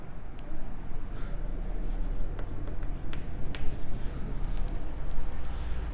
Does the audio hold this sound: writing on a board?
yes